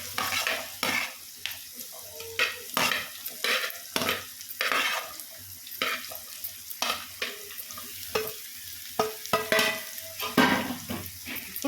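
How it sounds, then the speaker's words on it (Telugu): Ridge gourd pieces frying in a pan for a curry, stirred repeatedly so a spatula scrapes and taps the pan in an uneven rhythm over a continuous soft sizzle, close by. "ఇప్పుడు బీరకాయ ముక్కలు వేసుకున్నాము"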